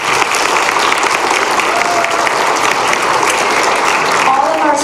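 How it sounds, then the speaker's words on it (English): A school winter concert audience in a middle school hall claps in loud, sustained applause for the music department supervisor, with a few voices murmuring under the clapping. "a round of applause for him"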